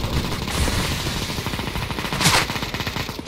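Video game gunfire crackles in dense, rapid bursts of automatic fire, loud and continuous for the whole stretch, with a sharper blast partway through.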